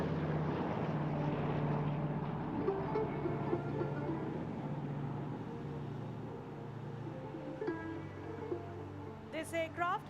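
Aircraft performing a flying display at the Aero India air show 2021, a steady droning engine hum throughout, fairly loud and continuous with a brief whine near the end, under a public-address commentator speaking.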